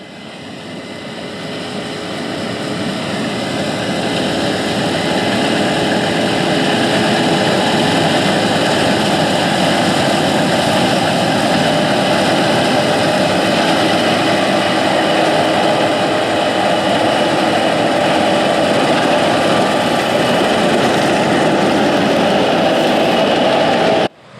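Combine harvester fitted with a 24-row Geringhoff corn head harvesting corn, a loud, continuous engine and machinery roar that swells up over the first few seconds then holds steady and close, with no voices.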